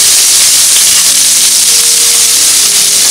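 Chopped onion sizzles loudly in hot oil with cumin in a pan, a dense, steady, close hiss that carries on without a break.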